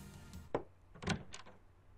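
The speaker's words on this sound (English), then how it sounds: "I hear a knock and then the door opens." A knock and a door opening in the Steins;Gate visual novel come through as a few faint thumps and a short rattle, quiet and close, with no talking.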